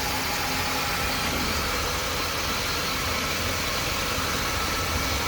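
Steady idle of a 2003 Ford Taurus engine suspected of an engine fault, a constant close, loud broadband rumble with vibration that holds unchanged throughout, no voices.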